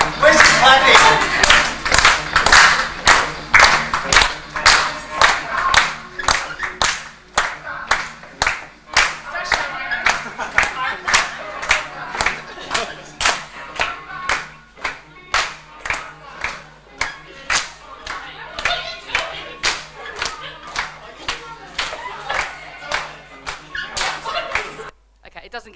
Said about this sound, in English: Where's the clapping?